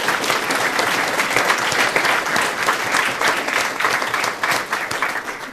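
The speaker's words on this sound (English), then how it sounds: "So can I have a round of applause for Andrew Bell and Rob Murphy?" An outdoor crowd at a school orienteering championship applauds steadily for several seconds, a dense, even clapping that stays fairly loud throughout before easing slightly at the end.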